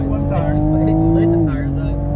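A Toyota Supra tuned with E85, an Armaspeed intake, a downpipe and a JB4 launches hard and spins its tires, giving a loud, close, sustained engine roar whose pitch holds steady and then drops slightly, with someone talking over it.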